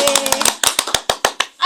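A small group claps about a dozen sharp, distinct times during a talk session with two nuns, the claps close and uneven in rhythm, with faint voices between them.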